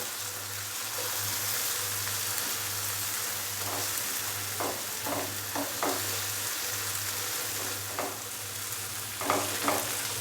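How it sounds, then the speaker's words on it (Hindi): Finely chopped red and green capsicum sizzles steadily in a pan for a vegetable masala Maggi, with a low hum beneath and scattered scraping stir strokes, close and moderately quiet, no voices. "अच्छे से मिक्स करेंगे और इसको 2 से 3 मिनट के लिए फ्राई कर लेंगे।"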